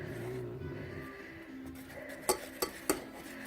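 Jelly puppy food is stirred as it melts in a pan: a soft, low bubbling and swishing, then three sharp metallic clinks of a utensil against the pan near the end.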